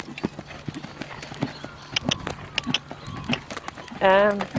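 Rhythmic hoofbeats of a horse walking, with a person talking over them, ending in a loud whinny close by.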